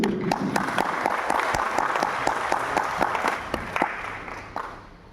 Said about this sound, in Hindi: इसलिए तालियां बजा दीजिए